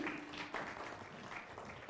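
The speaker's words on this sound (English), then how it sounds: "With a better clap, guys, as she comes." An audience at a fellows onboarding dinner claps to welcome a woman onto the stage, producing a soft, steady patter of applause with a faint voice briefly heard early on.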